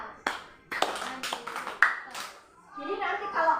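Rhythmic clapping by a group, likely children, following a three-clap pattern with right, left and up hand motions; several sharp claps ring out in sequence, with a teacher's voice talking over them and some chatter at the end.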